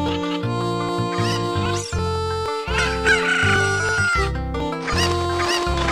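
Chickens clucking and crowing in Ocarina of Time, several loud game-sound rooster crows and clucks layered over rhythmic background music, close and continuous.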